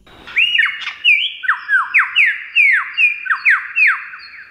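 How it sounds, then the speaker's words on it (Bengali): A single desert bird runs through a series of loud, close squawking calls, around a dozen harsh swooping notes in a quick, uneven rhythm, with no other sound. "এই 3টি শব্দ আসলে 3টি পাখির নয়, এটি তৈরি করছে এই পাখিটি।"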